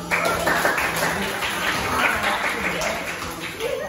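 Applause from an audience in a high school auditorium during a game, a dense wash of clapping that runs steadily for the whole stretch with some voices mixed in.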